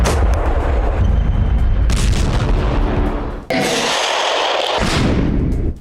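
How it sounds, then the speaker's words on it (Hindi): Russian Grad multiple-launch rocket artillery firing, loud continuous roaring blasts with a sharp break midway followed by another harsh rushing launch roar, close and overpowering, with no voices. "MLRS ग्रेड के आग उगलते रॉकेट यूक्रेनी फोर्स पर कहर बनकर टूटे"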